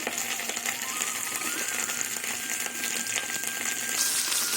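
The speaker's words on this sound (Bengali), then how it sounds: "এবার সেদ্ধ মশলাগুলো ঠান্ডা হয়ে গেছে মিষ্টিতে পেস্ট করে নেবো" A mixer grinder whirs continuously as it grinds boiled spices into a paste for a duck egg curry, a steady mechanical churning that swells slightly toward the end.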